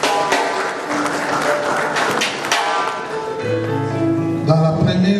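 A church congregation clapping together in steady, fairly loud applause that fades near the end, giving way to sustained organ or keyboard tones.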